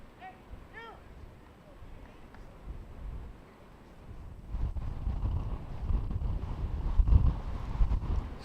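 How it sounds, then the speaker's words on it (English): Heavy wind gusts buffet the microphone at an outdoor high school baseball game, a low rumbling roar that swells louder in the second half, with faint crowd and field sounds underneath. "Heavy gusts of wind coming in now."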